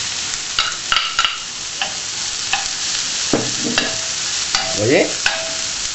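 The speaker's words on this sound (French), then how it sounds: "Donc je vais commencer à jeter mes échalotes. Puis par la suite, nous allons mettre" Shallots and bell peppers sizzle in a hot pan for a stir-fried ginger beef dish, a steady close frying hiss broken by irregular scraping and clinking stirring strokes; a voice briefly speaks near the end.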